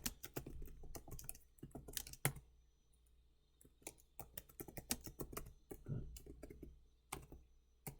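Typing on a computer keyboard while entering Git commands, with tab presses: bursts of sharp, close keystroke clicks separated by brief pauses, fairly quiet, with occasional faint speech.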